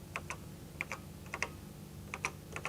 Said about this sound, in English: I'll just type garlic